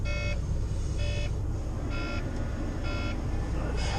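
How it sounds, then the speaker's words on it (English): A Volvo truck's dashboard alarm for low air pressure sounds on a cold, snowy start, giving evenly spaced buzzing beeps, about one per second, over a constant low engine rumble. "It's coming up with alarms, the air pressure's down"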